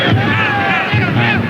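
A stadium crowd of just under 20,000 football fans, mostly Argentina supporters in blue and white, at a 1999 Copa América match against Uruguay in Paraguay, sends up a continuous loud roar of cheering and chanting.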